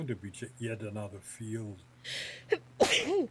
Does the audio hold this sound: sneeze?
yes